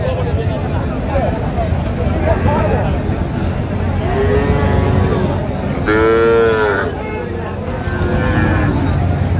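Friesian bull calves moo at a busy cattle market, several loud drawn-out calls rising above a constant crowd murmur and chatter.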